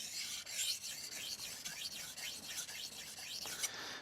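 A knife is deburred on a vitrified diamond sharpening stone in a quiet room, a run of light, rhythmic rasping strokes that come close together and stand alone.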